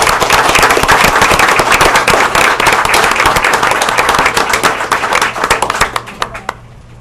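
Audience at a school board of education meeting breaks into loud, close applause, a dense burst of clapping that holds strong and then thins into scattered final claps before dying out.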